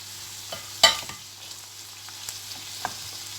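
Carrots and onions frying in a pan, a steady soft sizzle with occasional clinks and scrapes of stirring, close up and without talk.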